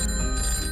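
An electronic telephone rings with a bright, sustained tone close to the listener, heard alone for under a second.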